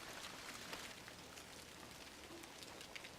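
Soft rain falls steadily around a house in the woods, a faint, even hiss of drops with no voices.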